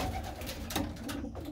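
Pigeons in a loft of young racing birds, a soft steady murmur of cooing and flock noise that stays close and continuous throughout, with no talking.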